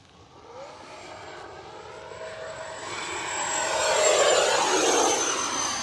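FMS J-11 / SU-27 twin 70mm RC jet flying overhead, a whooshing ducted-fan whine that swells louder as it passes nearer, then eases slightly.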